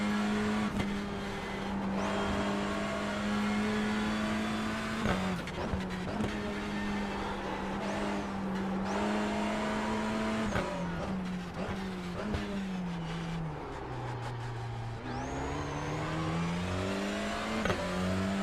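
A race car engine in the iRacing sim drones at high revs, pitch rising through each gear and dropping sharply at shifts and braking, with brief tire scrubs through corners, steady and loud throughout.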